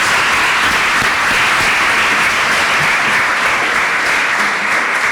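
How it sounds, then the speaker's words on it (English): An awards ceremony audience gives a full, dense round of applause, a loud and even roar of many hands clapping throughout with no break. "So let's give them a round of applause if we can."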